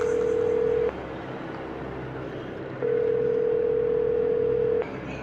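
An outgoing telephone call rings unanswered, a steady electronic ringback tone sounding in two long pulses separated by a pause of silence, clear and close over faint background hiss.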